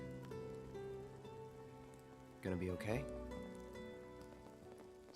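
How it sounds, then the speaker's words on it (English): Steady rain falls in Final Fantasy VII Remake Intergrade, a continuous patter running beneath game music and speaking voices, with a brief louder burst partway through. "Oh, they've never seen rain before, right?"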